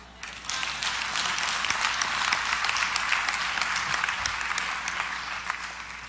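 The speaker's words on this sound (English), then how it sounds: "Clap." A lecture audience breaks into applause, a dense, sustained wash of many hands clapping that rises quickly and holds steady, heard from within the hall.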